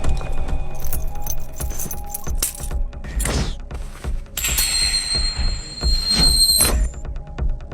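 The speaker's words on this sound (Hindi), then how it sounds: "गाड़ी की चाबी" Car keys jangling close by in a busy scene, with bright metallic chiming and a sharp squeal among steady background noise.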